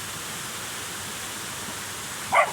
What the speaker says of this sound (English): Have this beautiful waterfall here.